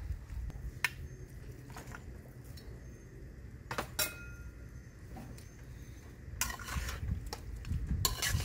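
A spoon stirs mutton gravy in a cooking pot, giving soft, quiet scraping strokes over a faint sizzle, with an occasional light clink of metal against the pot.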